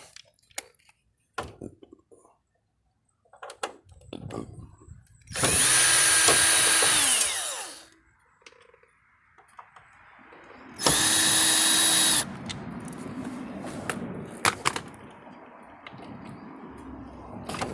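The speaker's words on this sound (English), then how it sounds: "you just have to remove these top two screws, and bam, that cover is out" Power drill backing Phillips head screws out of a vehicle light cover: two loud whirring bursts of a few seconds each, close up, between small handling clicks and taps.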